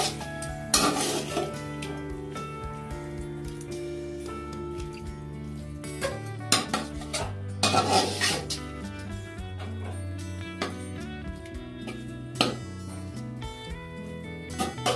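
A chicken dum biryani mixture is stirred in a metal pot, with repeated clanking and scraping of a spoon against the pot and a faint sizzle underneath.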